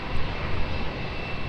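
An Emirates airliner going around at Lisbon Airport gives a loud, steady roar of engine noise, close and continuous, with no voices.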